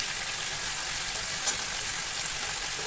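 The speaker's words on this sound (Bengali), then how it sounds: "চিকেনটাকে দিয়ে এবার ভালো করে কষিয়ে নেব" Chicken sautéing (kosha) in a pan gives a steady, soft sizzling hiss, close and unbroken, with a couple of faint clinks and no voices.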